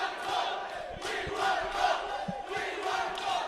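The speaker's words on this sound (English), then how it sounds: "The crowd's shouting they want a goal, Bruce." Football crowd at a men's Premier League match between Darwin Hearts FC and University Azzurri FC, shouting and chanting for a goal in a steady, loud mass roar with rising surges, no clear speech on top.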